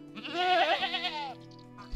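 A sheep ram in Medieval Dynasty gives one drawn-out, wavering bleat lasting about a second, close and clear over a soft game background.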